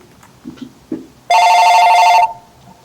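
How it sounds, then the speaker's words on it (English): A telephone rings once in a loud electronic trill lasting about a second, following a few faint soft knocks and rustles. "Sorry, my phone keeps ringing."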